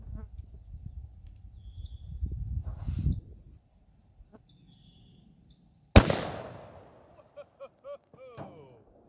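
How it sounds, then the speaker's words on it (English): A Marlin .45-70 rifle loaded with Maker Bullets fires one sharp, loud shot outdoors that rolls off in a long echo. Low voices murmur beforehand, and faint animal calls follow the shot. "Next up is the Marlin with the Maker Bullets Rex."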